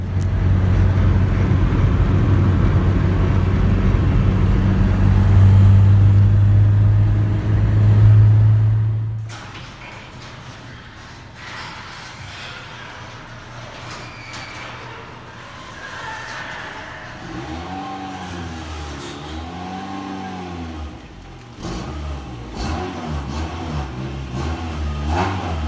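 A car engine revs hard and loud up close, then cuts away; a quieter drive follows with engine tones rising and falling as it moves off and accelerates.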